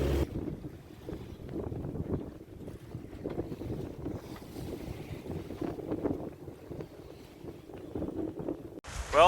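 Wind buffets the microphone on a sailboat at sea off Martinique in the Caribbean trade winds, a continuous rumbling gusty roar with a sharp clatter at the very end.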